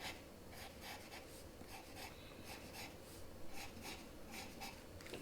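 Pencil scratching across paper while drawing details on a turkey, with short repeated strokes in a steady rhythm, close and fairly quiet, with no talking.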